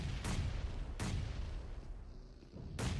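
A grenade blast in the PUBG Mobile battle royale game during a SEA grand finals esports match: a few sharp booming explosive hits spaced about a second apart, loud and near, with no talk over them.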